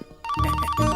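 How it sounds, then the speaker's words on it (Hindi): A phone ringtone chimes loudly and close, a bright repeating electronic melody that starts abruptly and carries through. "अरे इसे कोई साइलेंट मोड पे रख दो, रिंगटोन भी मुझे उसकी टोन में सुनाई दे रहा"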